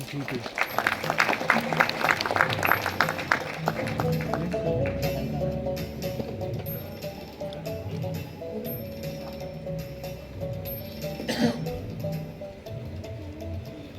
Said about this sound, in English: Please join me in welcoming with a huge round of applause Ms. Najma Hashmi